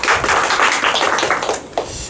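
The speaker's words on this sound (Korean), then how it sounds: "박수 한번 쳐드릴까요?" An audience at a new-teacher seminar claps briefly, a close burst of many hands that stays even for a couple of seconds before a final sharp clap.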